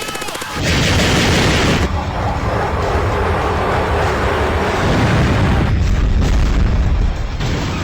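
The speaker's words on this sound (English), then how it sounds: "Everything's exploding, and there's awesome gun shooting and metal playing" Explosions and gunfire in an early-2000s Newgrounds flash cartoon: a loud, dense barrage of booming blasts and rapid shots runs almost without a break, mixed with driving metal music.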